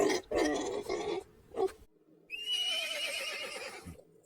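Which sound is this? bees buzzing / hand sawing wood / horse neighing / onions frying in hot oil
horse neighing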